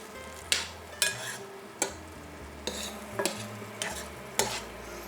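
Chicken thighs in a pan being basted with a thickening port wine glaze over low heat, heard as several sharp utensil scrapes and stirring knocks against a low, soft sizzle, close and fairly quiet with no talking.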